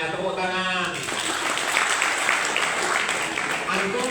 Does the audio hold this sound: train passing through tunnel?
no